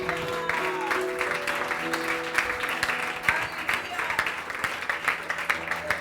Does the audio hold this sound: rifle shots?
no